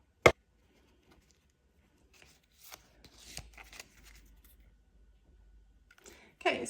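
Tarot cards shuffled by hand, heard as scattered soft riffling and rubbing bursts with a sharp click at the start, fairly quiet overall.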